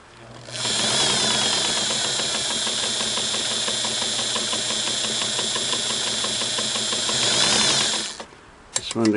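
A Singer Model 99K sewing machine runs a steady stitching seam, a fast, even mechanical whir and rhythmic needle clatter at close range, starting up quickly, holding constant pace for several seconds, then stopping with a few handling clicks.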